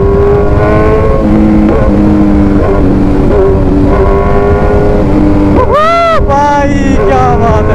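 A Kawasaki Z900 motorcycle is ridden through traffic at night, its engine loud and close with steady droning tones that rise and fall as it accelerates and revs, a rising whine near the end, and no talk.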